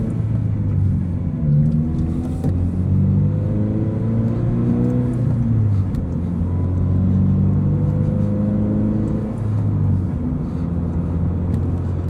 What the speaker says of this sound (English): Also, I gotta get rid of this rev hang.